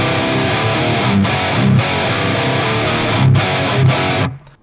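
A distorted electric guitar plays a hard rock riff, a chugging palm-muted open note alternating with fretted chords in steady rhythm, loud and continuous until it cuts off at the end.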